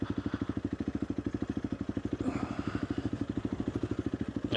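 Motorcycle engine thumping at an even, rapid beat while riding a trail near a canyon wash, close and fairly steady, with a brief surge in the middle and no talk.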